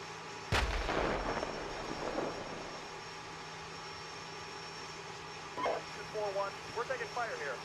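Gunfire in a military video game: one sharp, loud shot near the start with a ringing tail, then faint distant pops later, over a low ambient hum with quiet radio-style chatter.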